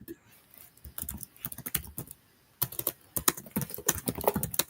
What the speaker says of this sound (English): We hear you typing.